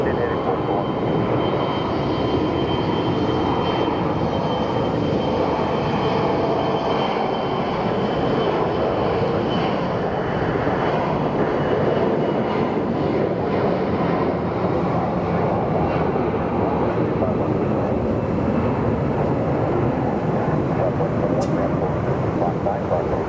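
A Horizon Air airliner at Phoenix Sky Harbor Airport produces a steady broadband engine roar that holds constant throughout, loud and nearby, with a broad wash of jet noise and no clear change in pitch.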